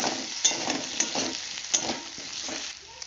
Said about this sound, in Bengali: এবার ওর মধ্যে আমি হাফ চামচ রসুন বাটা দিলাম আবারও ভালো করে কষাবো